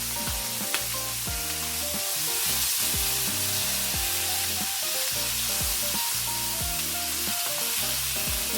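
Chicken pieces fry in a little oil in a pan for an Indian chicken curry, giving a steady close sizzle that runs throughout, with tonal music playing over it.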